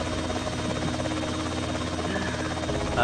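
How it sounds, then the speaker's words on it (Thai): A helicopter in the video game GTA San Andreas gives off a loud, steady rotor drone that fills the whole stretch without a break, with a faint hum underneath. "ไปไปไปเฮลิคอปเตอร์ไปครับ"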